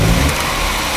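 1999 Volkswagen Passat 1.8T with a faulty MAF sensor, hesitating and idling rough, revving at wide open throttle: a loud, close engine roar that surges briefly then settles into a steady drone.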